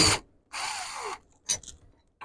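A power drill backs screws out of a front screen door, with a short whir, a longer whine that winds down, then brief bursts, all close and alone.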